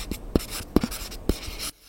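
A stylus on a tablet screen taps and scratches in short strokes, with three soft thuds spaced through a brief stretch of writing, close and fairly quiet.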